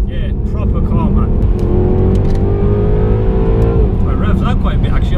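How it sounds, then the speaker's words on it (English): A 2018 Mercedes-AMG E63 engine drones loudly and climbs in pitch under acceleration from inside the car, with a rising tone that then eases, while people talk over it. "I was revving up to 6. It happily goes to 7."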